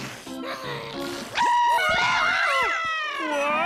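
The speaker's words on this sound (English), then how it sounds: "The scream screen always surprises Goo." A cartoon scream screen lets out a loud, wavering, high-pitched electronic shriek that rises and bends for a few seconds, following a character's short spoken line.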